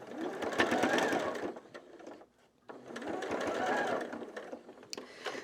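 A sewing machine stitches fabric for a custom-size Christmas tree skirt, running in two long, steady bursts with a brief pause between them, close and fairly loud.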